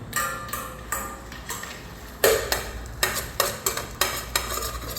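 Egg frying lightly in a little oil in a pan, a soft steady sizzle running beneath repeated sharp clinks of a utensil against the pan.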